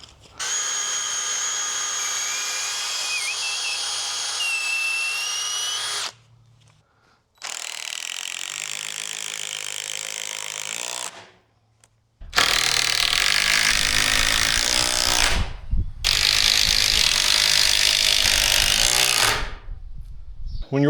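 A power drill drives countersunk screws into wood on an old barn garage door, sounding as three sustained whirring bursts separated by short pauses, close and loud, with no talk.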